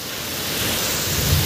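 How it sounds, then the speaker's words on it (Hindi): Heavy monsoon rain pours outside with storm wind, a dense, loud, unbroken roar of falling water and gusting air that fills the short stretch evenly, no voices present. "बारिश हो रही है, तूफान चल रही है"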